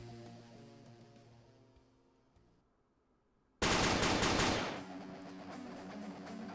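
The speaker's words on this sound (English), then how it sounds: "the sound of Shiro's constant gunfire was enough to make me understand what he was trying to do" A sudden burst of rapid automatic gunfire in the video game Dies irae erupts after a quiet stretch, loud and sustained for about a second before tapering into lingering noise.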